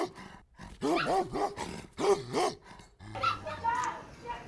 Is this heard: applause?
no